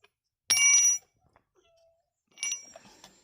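A socket spanner clinks against a Husqvarna grass cutter's blade assembly while the blade is fitted and tightened. There are two bright metallic rings about two seconds apart, close and clear in an otherwise quiet space.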